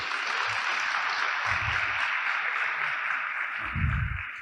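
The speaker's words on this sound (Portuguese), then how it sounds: "Dê um aplauso para Maitê." Audience applauding for a young woman named Maitê at a church gathering, a steady broad wash of clapping throughout with a few low thumps near the start and end.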